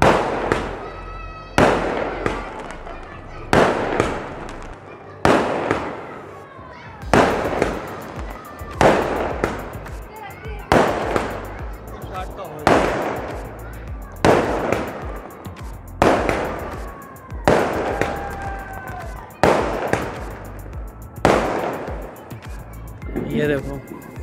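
Diwali firecrackers and fireworks burst one after another on Chhoti Diwali night, roughly a dozen sharp, loud bangs at about two-second intervals, each trailing off into crackle with faint background voices in between.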